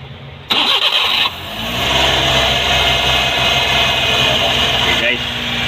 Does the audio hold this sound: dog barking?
no